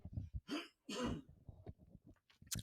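A man clears his throat and coughs in several short, harsh bursts, close and fairly quiet, with brief pauses between them.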